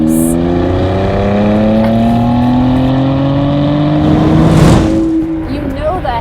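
2020 BMW X3 M Competition with M Sport exhaust and quad tips revving and accelerating loudly, engine pitch climbing steadily through a gear before easing off, with people talking over it.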